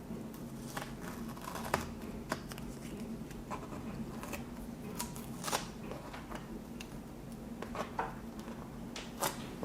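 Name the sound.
tape being peeled off an acrylic painting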